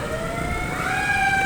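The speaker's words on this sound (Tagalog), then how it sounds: "Ayan ang bumbero po," Wailing fire truck siren on a street where a large fire is burning, steady and fairly loud, its rising tone sustained across the whole moment with road noise underneath.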